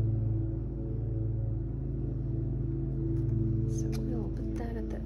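A lawn mower drones as a steady low hum in the background through the whole stretch, with light paper rustling and crinkling nearby toward the end.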